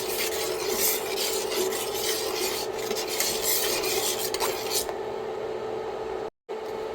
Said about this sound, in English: And then I'm going to stir this together.